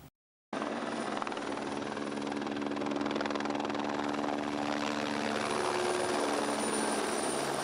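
A twin-engine military Fennec helicopter, the militarised version of the Écureuil, runs loud and steady after a brief silence, its turbine whine and rotor drone holding constant throughout.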